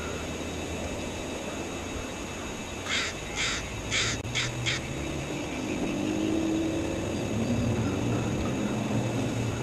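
A person outdoors imitates a seagull with a voice, giving a quick run of five coarse, caw-like cries over steady wind and a low rumble.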